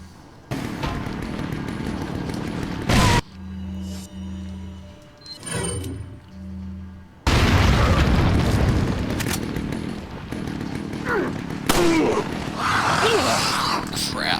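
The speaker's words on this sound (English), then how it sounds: "So we're gonna lead things off with a grenade." A grenade goes off in Resident Evil 4 on the Wii, a loud broadband blast with a heavy rumbling tail, followed by more booming bursts and game noise, with a voice talking in between.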